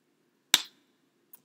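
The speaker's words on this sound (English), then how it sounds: "That was a high five." A single sharp palm-to-palm high-five slap cracks close by, followed by a much fainter tap about a second later, otherwise in near silence.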